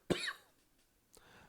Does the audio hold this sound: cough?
yes